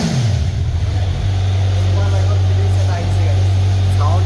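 A Kawasaki Ninja Z900 motorcycle engine revs down from a high rev and settles into a steady, loud idle exhaust rumble close by, continuing throughout.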